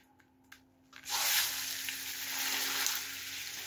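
Minced meat sizzling loudly in a pan as it starts to fry, seasoned with biltong spice, a steady bright hiss that erupts after a second of quieter clatter and holds through to the end.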